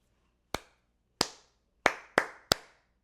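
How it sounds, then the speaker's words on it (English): Five sharp hand claps from a teacher beating out a rhythm for a children's music activity, close and crisp with short ringing decays in a quiet room, spaced unevenly with the last three quicker. "listen for which of the 3 rhythms the teacher is going to clap"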